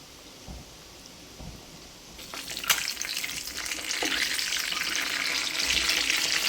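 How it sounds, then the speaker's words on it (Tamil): Crispy egg snacks dropped into about 100 ml of hot oil, a quiet pause and then a sudden loud, bubbling sizzle that holds steady and grows a little stronger to the end. "100 ml எண்ணெய் எடுத்து சூடு பண்ணி அதுக்குள்ளே அப்படியே பொரிச்சு எடுத்துருவோம்."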